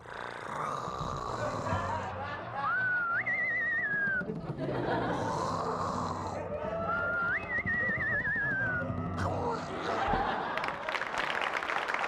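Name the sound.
performer whistling to imitate birds calling from a rooftop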